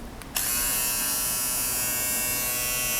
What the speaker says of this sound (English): Now let me show you the nose trimmer head.